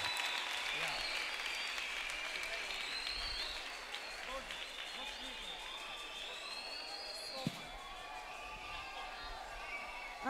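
Audience applause at a church praise and worship programme as a band begins a song, steady crowd clapping with faint voices and musical tones over it, tapering slightly midway.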